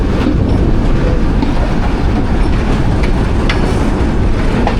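A Millat Express passenger train rolls steadily into the main platform, loud and close, with continuous rumbling wheels and rhythmic clickety-clack of railcars over the track joints, no voices present.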